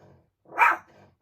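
A dog barks once at moderate distance, a short single bark between quiet moments, with faint background sound around it.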